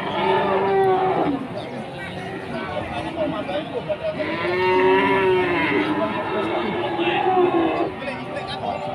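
Cattle at a Pasar Pon livestock market in Jaken, Pati, low lowing moos rising and falling steadily over a busy crowd murmur, close and continuous throughout.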